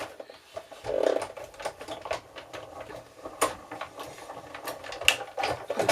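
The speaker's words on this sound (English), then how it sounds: "I'm just going to run this through my die cut machine really quickly." A die cut machine runs a card through, a faint irregular mechanical clatter and patter of rollers with small clicks, quiet and close, no voices.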